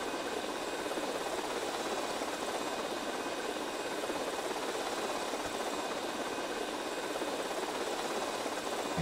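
Steady RC helicopter rotor and engine drone in GTA Vice City, continuous and even in level throughout, with no talking.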